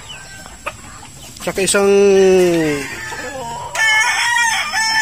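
A Filipino backyard chicken coop with brood hens and a broodcock: a loud rooster crow dominates the middle, preceded and followed by hen clucks and other fowl calls, with a person speaking briefly nearby.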